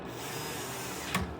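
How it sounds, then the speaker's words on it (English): A power drill whirs steadily during a PS5 Slim HDMI port repair, a continuous close mechanical hum with a brief louder click near the end, no talking. "this drill has been great"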